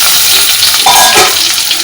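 Potatoes and pointed gourd frying in a pan give a loud, close, continuous sizzle with a brief stirring scrape.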